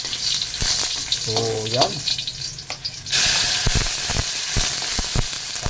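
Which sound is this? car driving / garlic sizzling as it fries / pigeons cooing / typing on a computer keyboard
garlic sizzling as it fries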